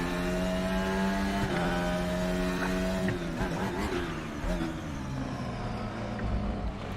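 A FR X-22 open-wheel race car engine in the racing game RaceRoom revs and accelerates steadily, its pitch rising through gear shifts, loud and continuous throughout.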